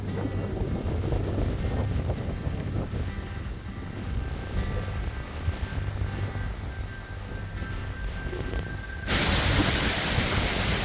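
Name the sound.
wind blowing on a trail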